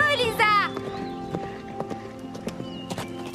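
A horse being ridden in a riding lesson whinnies at the start, followed by scattered hoof clip-clops and tack jingles at close range while people talk.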